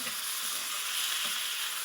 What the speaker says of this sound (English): we're going to stir in some fresh tomatoes